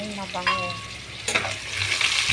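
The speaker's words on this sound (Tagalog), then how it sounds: "magigisa tayo ng bawang. Ayan lang natin na mag-brown ang ating bawang para mabango" Garlic sautés in hot oil for chicken liver and gizzard adobo, a close steady sizzle with a sharp stirring scrape partway through and faint tonal kitchen noise early on.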